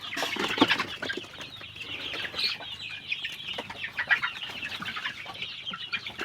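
Many local hens cluck and squawk together in a steady, busy chatter in a crowded coop, close by, with occasional louder calls rising over the flock.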